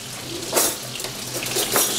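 Sirloin steak sears in a pan over strong heat with a steady broadband sizzle and crackle, close and continuous, with slight swells in intensity and no voices.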